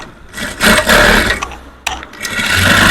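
Home sewing machine running a long straight double stitch on three-piece dress fabric, a steady mechanical whir with a brief pause midway before the stitching resumes, close and fairly loud with no voices.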